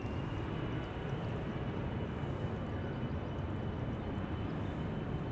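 A KLM Embraer 175 regional jet, six years old, heard as a steady, fairly faint broadband engine roar at an airport, even and unbroken throughout with no voices.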